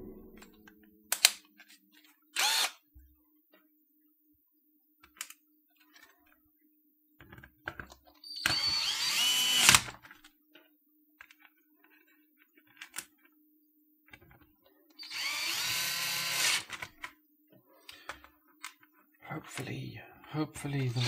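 Short bursts of a power drill whirring as screws are driven into a keyboard PCB, two longer runs among scattered clicks and taps, close and fairly loud, with a person talking in between.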